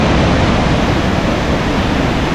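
Thomson's Falls at Nyahururu, Kenya, gives a dense, steady, loud roar of water crashing down. The broadband rush fills the whole moment without a break, and no voices are heard.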